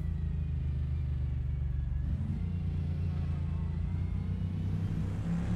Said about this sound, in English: I know this car is loud